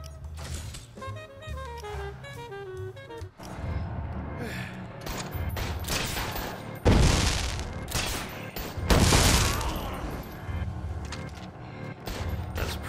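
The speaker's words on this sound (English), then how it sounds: "let's just go ahead and get into some shooting as well" Gunfire in the video game Dead Rising 4, with bursts of rapid shots and loud booming blasts that build after a quieter start with background game music.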